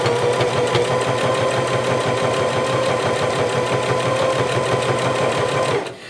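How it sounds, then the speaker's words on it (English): A Singer Heavy Duty 5554 sewing machine sews slowly through several layers of thick fabric, a steady close mechanical hum with rapid regular needle thumps that stops abruptly at the end. "So let me just sew slow."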